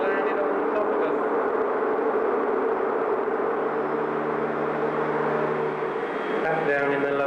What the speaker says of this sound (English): Helicopter noise in the background, it's sort of just ticking over up top